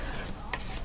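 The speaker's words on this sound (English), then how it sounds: "let's scrape up the rest of this stuff" A palette knife scraping up drying paint from a palette, two short close rasping strokes separated by a brief pause, quiet and alone.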